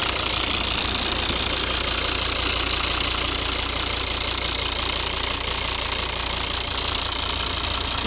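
A 2011 Volvo V70 2.0 D3 diesel engine idles steadily with a dense, clattering rumble, continuous and close, with no voices.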